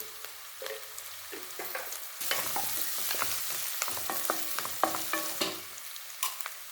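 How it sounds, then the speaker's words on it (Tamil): Finely chopped beans, carrot and green peas with turmeric sauté in oil in a pan for semiya kichadi, giving a steady close sizzle broken by frequent scraping stirs, with no talk. "இது நல்லா எண்ணெயில் வதக்கணும் காய்கறி நல்லா வதங்கிடுச்சு"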